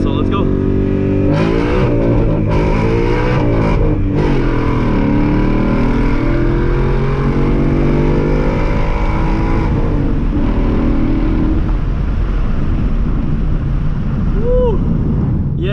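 A Ford Mustang with a gas cover installed makes an open-throttle pull, its engine roaring loud and close as the pitch climbs with the tires spinning, then easing off into a steadier drone with wind noise.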